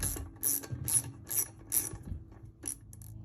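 A ratchet wrench loosens bolts on a Honda Goldwing motorcycle in several quick clicking bursts, close and fairly quiet, with short gaps between strokes and a final burst after a pause.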